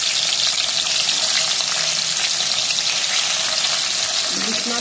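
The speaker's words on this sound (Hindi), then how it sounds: "अब हम इसमें एक एक करके हम ओल को हम दोनों तरफ से गोल्डन ब्राउन फ्राई कर लेंगे।" Elephant foot yam frying in hot oil in a kadai, a loud, steady, close sizzle that continues without pause.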